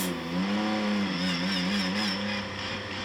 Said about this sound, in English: Straight cut gears, listen to that.